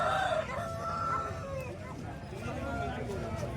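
At a hen market in Kothagudem, roosters crow and hens cluck in the background, brief overlapping calls beneath nearby voices of people talking.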